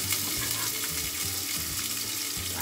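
Onion and green pepper sizzle steadily in a hot pan, a continuous frying hiss with faint stirring scrapes, close and fairly loud with no talking.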